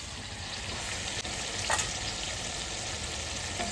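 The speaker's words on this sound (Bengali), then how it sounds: "এবার একটু ঢেকে কষাবো, এবার একটু ঢাকা দিয়ে দিই।" Mutton and onion sauté in a covered pan, a steady dense sizzle and hiss with a faint clink near the middle, close and constant throughout.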